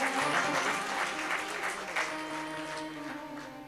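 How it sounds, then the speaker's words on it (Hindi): Audience at a Hindu religious katha on Lord Krishna claps together in a fairly loud burst that gradually thins, with faint musical tones sustaining underneath. "अच्छा जम के बजा लो ताली, अब कंस मरने वाला है।"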